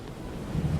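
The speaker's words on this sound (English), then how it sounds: "Just waves and wind against me." Waves and wind battering a heeling sailboat in a sailing video game, a continuous low rushing wash with gusty rumble and a slight swell toward the end, moderately loud and without talk.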